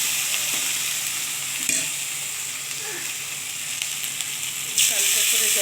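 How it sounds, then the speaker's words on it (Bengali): Poppy seeds and green chillies fry with black cumin in a pan, giving a steady close sizzle with occasional stirring scrapes and a louder burst near the end. "আমার পোস্ত দিয়ে দিলাম, পোস্ত আর কাঁচা লঙ্কা ভাজা আছে"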